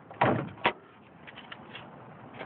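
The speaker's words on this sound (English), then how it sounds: "Open your door." Driver's door of a 1999–2007 body-style Chevrolet Silverado truck with a 4.8-liter engine is unlatched and swung open: a firm clunk of the latch, a second thud just after, then a quiet hiss of background noise.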